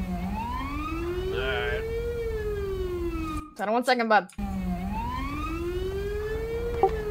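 A police car siren in a video game wails in long rising and falling sweeps, loud and close, with a brief switch to a rapid yelp and a voice talking over it.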